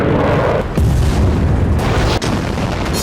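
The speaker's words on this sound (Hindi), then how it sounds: "सीरिया पर नॉन स्टॉप बमबारी जारी है।" Bombing explosions in Syria rumble as loud, deep, continuous booming. Sharp heavy blasts break through the roar twice.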